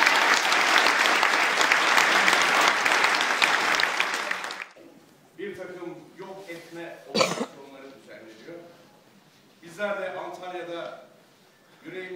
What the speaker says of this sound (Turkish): Antalya'ya büyük bir alkış lütfen.